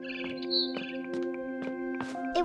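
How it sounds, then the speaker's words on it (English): Barn swallow chirping outside a window in the game What Remains of Edith Finch: a rapid series of short, bright chirps and tweets, fairly close and clear over a steady low tonal hum. "Then I heard chirping outside my window."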